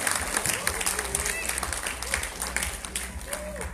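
Crowd applause at the Miss and Mr. Petite Sarawak 2019 semi-final for the pageant finalists, a dense, steady clatter of many hands over background music, with a voice speaking underneath.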